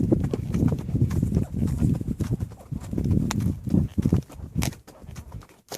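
A horse ridden outdoors on a warm day gives a steady clip-clop of hooves, close and rhythmic, continuing evenly for several seconds before briefly dropping away near the end.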